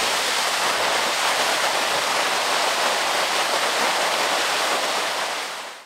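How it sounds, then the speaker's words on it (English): Water from an opened fire hydrant in Boston, a couple hundred gallons gushing out: a loud, steady broadband roar that holds constant throughout, then cuts off near the end. "It's a couple hundred gallons worth of water pouring out of the hydrant."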